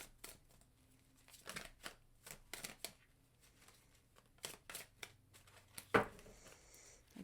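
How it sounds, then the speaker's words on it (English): Quiet bursts of tarot cards being riffled and shuffled, several short rustling flurries with pauses between, ending in a sharper snap. "Three shuffles."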